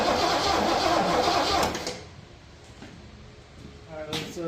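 A high compression 460 engine cranks and sputters, a rough churning burst that drops away into quieter stuttering, then picks up again briefly.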